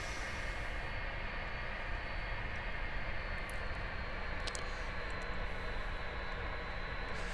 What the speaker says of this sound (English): Just taking L39 onto the runway.